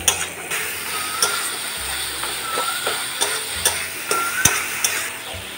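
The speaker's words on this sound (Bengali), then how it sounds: "সব দিয়ে আমি মশলাগুলোকে ভালো করে টমেটোর সঙ্গে কষিয়ে নিচ্ছি।" Spices and tomato frying in a pan for a Bengali drumstick, potato and pointed gourd curry, with steady close sizzling broken by irregular scrapes and clicks of stirring, and no talk.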